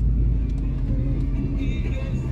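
Cars passing on a busy street make a steady low rumble with a rising whoosh toward the end, while people talk nearby.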